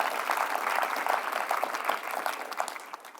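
An evening audience at a talk on Anne Lister applauds to welcome the speakers and the chair, Emma Barnett, in a dense, steady wash of clapping that fades slightly toward the end.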